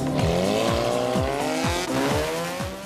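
A home-built race car assembled from scrap blasts through a chicane, its engine repeatedly revving up and dropping with each gear change, loud and close, with tire squeal mixed into the roar.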